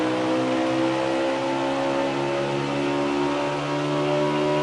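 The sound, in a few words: stock car engine revving off and on throttle, NASCAR Heat 4 video game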